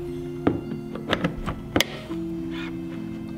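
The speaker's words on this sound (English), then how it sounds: "open up your flap" The charging port flap on a 2017 Porsche Cayenne S E-Hybrid is opened with a few close, crisp clicks and soft thunks from the latch, over a steady low hum.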